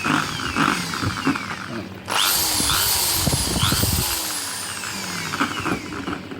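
A repaired portable electric drill, now running quieter, whirs steadily, revving up sharply partway through with a rising whine, then settling back to a steady hum.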